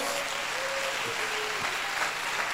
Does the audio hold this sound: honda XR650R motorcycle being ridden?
no